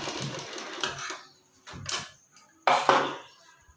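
A sewing machine stitching along the edge of a pyjama drawstring channel, three short bursts of rapid mechanical whirring and clatter separated by brief pauses, close and fairly quiet.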